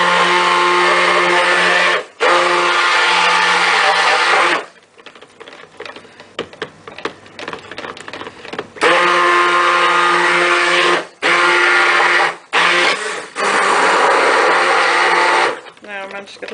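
Blender whirring through thick silk soap batter in loud bursts of several seconds, with quieter clatter and handling noise between runs.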